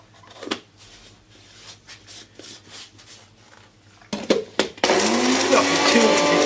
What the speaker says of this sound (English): grind them up into a very fine powder, and of course we can do that in a kitchen blender